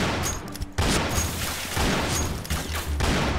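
A pirate-themed gun in the shooter game Point Blank fires in dense, loud bursts of rapid shots with a brief pause between them, with no talk.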